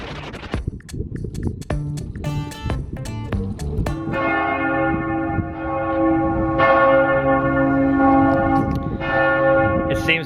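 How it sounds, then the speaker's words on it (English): Several church bells in Venice, Italy ring together in overlapping, resonant peals that build into a continuous, loud wash of tolling. "It seems that they have their bells coordinated."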